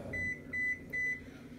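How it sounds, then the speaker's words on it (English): A kitchen oven set to 400 degrees beeps while preheating: three evenly spaced electronic beeps, each about a quarter second long, quiet against a low background hum. "that sound was my oven preheating"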